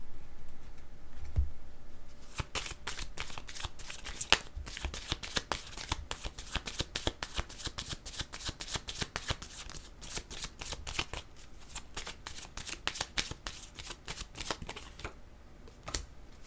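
Oracle cards are shuffled in a long, rapid run of crisp riffling snaps and soft slaps, close and fairly quiet, with short pauses between bursts and no speech over it.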